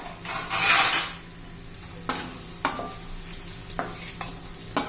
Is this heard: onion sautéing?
yes